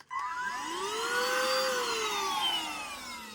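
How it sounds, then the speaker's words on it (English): A Bissell vacuum cleaner whirs steadily inside a Winnebago Solis 59PX camper van, its motor pitch rising as it spins up and then holding a loud, even whine. "A great addition is this Bissell vacuum cleaner."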